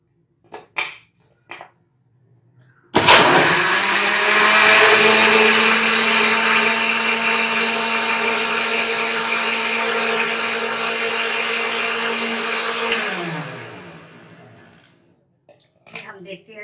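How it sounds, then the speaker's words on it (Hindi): A blender making a banana smoothie whirs loudly and steadily for about ten seconds, then winds down, with brief clicks and handling noises before and after. "फिर हमने ब्लेंडर को ऑन करना है।"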